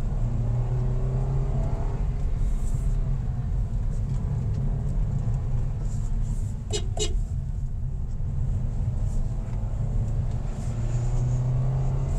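A 2025 Toyota Veloz 4-cylinder engine at full throttle on twisty roads, a steady droning rumble and whir from inside the cabin, holding a constant pitch throughout with no speech.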